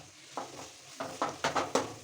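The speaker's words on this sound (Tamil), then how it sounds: "இது இப்போ நல்லா வதக்கிக்கோங்க." Onions and chilli powder sautéing in a pan for fish biryani, with a soft continuous sizzle broken by several sharp scraping and clinking strokes of a spatula that cluster toward the end.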